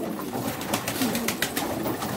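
Damascene pigeons coo softly in a steady series of low, throaty calls, with a faint bird chirp or two over a light background hiss and no talking.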